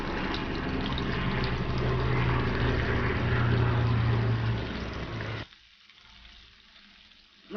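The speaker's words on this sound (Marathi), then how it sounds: "आता आपण मच्छी परतून घेऊया।" Karli fish sizzles and spits in hot oil in a pan, a dense close frying hiss with low scraping as the pieces are turned, then the sound drops abruptly to a faint background after about five seconds.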